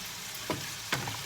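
Two brief scraping swishes of a spoon stirring pasta with broccoli and minced meat in a pot, spaced about half a second apart, over a steady low background hiss.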